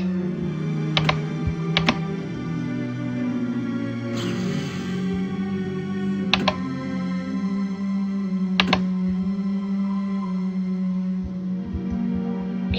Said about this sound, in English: So, such loud mouse clicking.